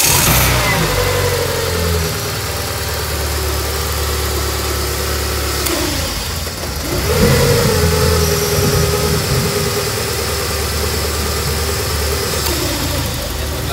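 A Peugeot 406 engine runs steadily at idle after a timing belt replacement, loud and close, with a slight rev partway through; voices talk faintly in the background.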